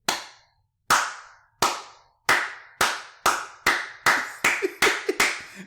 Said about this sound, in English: He was waiting on that slow clap there.